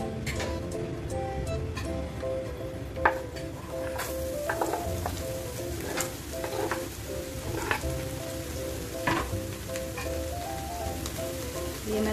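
Steady crackling sizzle of hot oil with scattered sharp pops, continuous and close, as a tempering is made for mung and masoor lentils in a pan.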